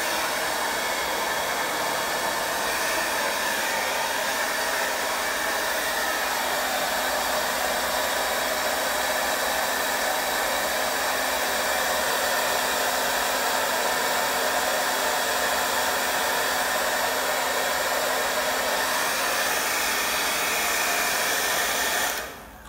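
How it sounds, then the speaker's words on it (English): A hair dryer blows steadily and loudly for over twenty seconds while drying acrylic paint, a constant airy roar that cuts off abruptly at the end. "I'm gonna use my hair dryer just to dry things a little bit quicker."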